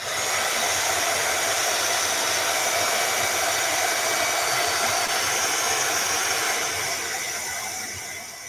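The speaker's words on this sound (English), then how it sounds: "Hitting this with the heat tool real quick." Heat tool blowing steadily over a sketch, a loud continuous broadband whoosh that holds for about seven seconds before easing slightly at the end, with no talking.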